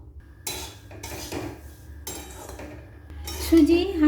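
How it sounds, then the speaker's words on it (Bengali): Semolina stirred and roasted in a metal pan, with repeated clinks and scrapes of a utensil against the pan over a low background, in irregular bursts. "নাড়াচাড়া করে হালকা লাল করে ভেজে নেব"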